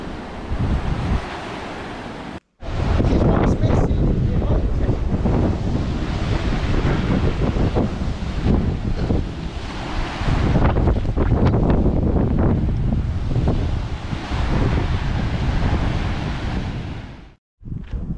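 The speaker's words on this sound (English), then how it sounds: "Have a listen to these waves as they crash against the shore." Sea waves crash and roar against the North Sea shore at Newbiggin-by-the-Sea, Northumberland, loud and continuous, with heavy wind buffeting the microphone.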